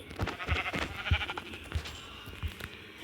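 Sheep in the video game Minecraft bleating repeatedly, several short close bleats in a loose rhythm with no voices over them.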